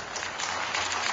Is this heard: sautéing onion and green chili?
no